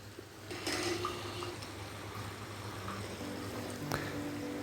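Chicken masala simmers and bubbles in water in a pan, giving a quiet, continuous soft bubbling with faint pops and a low steady hum beneath, no voice over it.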